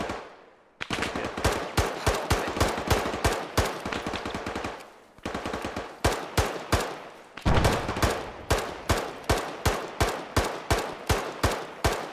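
Automatic gunfire from an Arma Antistasi firefight on Chernarus rattles almost without pause, dense and loud, with a sustained rapid stream broken by one or two short gaps before hammering on again in sharp, close bursts.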